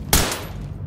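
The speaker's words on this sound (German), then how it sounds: "War ein Warnschuss" A single warning gunshot in the tactical shooter Ready or Not fires as a sharp, loud crack, followed by a short decaying echo.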